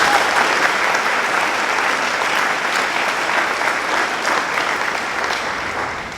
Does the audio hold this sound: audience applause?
yes